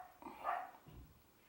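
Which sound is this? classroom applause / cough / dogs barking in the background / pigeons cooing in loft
dogs barking in the background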